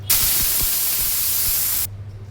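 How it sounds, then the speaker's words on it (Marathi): A sharp burst of hissing as water hits a hot iron griddle, loud and steady for nearly two seconds before cutting off abruptly. "पाण्याचा हापका मारून घेऊया।"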